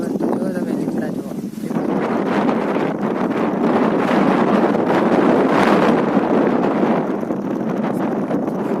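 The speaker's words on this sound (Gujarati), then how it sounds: "પવન એકદમ છે મસ્ત" Strong gusts of wind roar across the microphone outdoors near neem trees, a loud, rushing, buffeting noise that swells and eases, with a voice speaking over it at the start.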